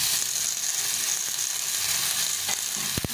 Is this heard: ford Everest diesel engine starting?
no